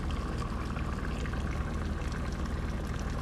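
A pot of pasta water boiling: steady, close bubbling and churning at an even level throughout, with no voices.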